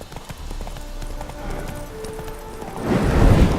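Steady clip-clop of horse hooves trotting in The Witcher 3: Heart of Stone, the horse spooked by ghosts, with a low rumble building toward the end and faint tonal ambience behind.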